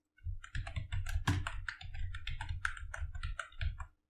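Typing a command on a computer keyboard during a MySQL setup on Windows 10: a rapid, close run of crisp key clicks with one heavier keystroke near the start, on a quiet background.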